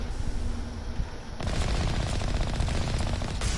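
Rapid gunfire shoots at spaceships in a video game. It comes in as a dense, continuous burst of shots that starts partway through and keeps hammering loudly to the end.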